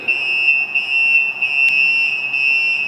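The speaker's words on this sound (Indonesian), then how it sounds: "Nah, ketika ini terjadi alarm, maka adalah untuk mematikannya adalah tombol kuning di belakangnya." A tank level alarm on a liquid cargo handling system sounds a loud, steady high-pitched electronic tone that pulses continuously with brief dips and no voices.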